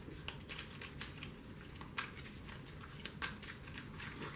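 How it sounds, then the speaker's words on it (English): Star Trek CCG cards being shuffled by hand, soft riffling and scattered sharp card snaps, quiet and close, without any talking. "Sorry, there's a lot of shuffling, but you want to randomize as much as you can."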